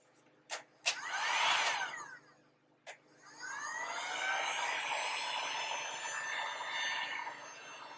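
An 1800 W Seekone heat gun drying Speedball fabric paint on cotton blows a steady, close, broadband whoosh. A short burst is followed by a brief stop and a click, then a long continuous run.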